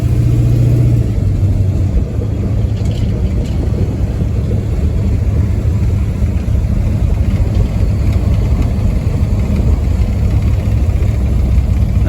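A 1970 Plymouth Fury III with a big-block 440 V8 and Flowmaster exhaust rumbles steadily and loudly throughout, a deep continuous burble with slight swells in revs as it cruises through a neighborhood.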